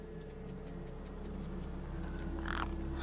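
Crows caw in the video game Beyond a Steel Sky while eyeing a corpse, a couple of faint calls rising near the end over a steady low ambient hum.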